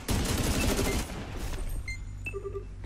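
Rapid bursts of LMG machine-gun fire in the shooter game Spectre Divide, loud and dense for about a second, then giving way to scattered quieter shots and pings.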